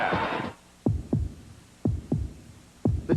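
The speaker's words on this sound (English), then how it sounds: "Listen to the heartbeat." A deep, throbbing heartbeat from a Chevrolet Corvette TV commercial pulses in three evenly spaced double thumps, loud and alone after a brief opening burst of noise.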